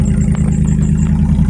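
A Ford 5.0 car engine running with no exhaust fitted, loud and close, a throaty rough idle with a steady low rumble and slight clattering, heard alone on a chilly day.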